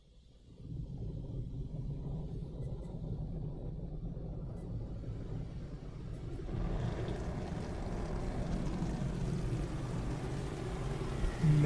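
Inside an automatic car wash on Route 228 in Cranberry Township, Pennsylvania, pre-soak spray hits a car under a low, steady rumble that swells into a denser, broader hiss partway through and continues without pause.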